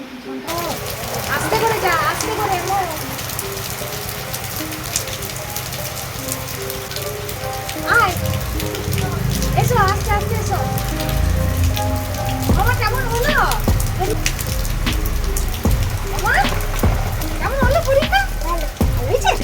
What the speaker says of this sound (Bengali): আজকে ব্যাপক বৃষ্টি